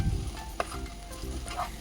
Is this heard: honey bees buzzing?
no